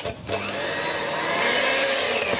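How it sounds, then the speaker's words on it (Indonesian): Electric mixer running steadily at its lowest speed while kneading donut dough made with margarine and salt, a continuous close motor whir with no talking. "Lanjut ini di mixer kembali, masih menggunakan speed paling rendah."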